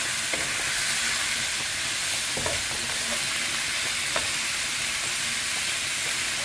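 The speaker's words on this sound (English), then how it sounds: "We're just going to continue breaking up this meat as it fries." Ground meat and sausage fry steadily in a pan for lasagna sauce, a continuous close sizzle with occasional scraping and stirring clicks as the meat is broken up, and no talking.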